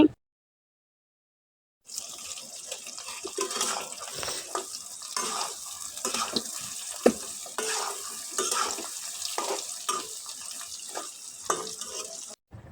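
Whole garlic cloves fry in hot oil for a mango pickle, a bright continuous crackling sizzle with occasional stirring scrapes and one louder knock, close by and steady after a brief silent start.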